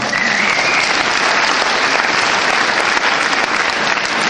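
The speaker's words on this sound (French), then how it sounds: "Vous pouvez l'applaudir." Sustained audience applause from a theatre crowd, dense and steady clapping filling the whole stretch at close, loud level with no break.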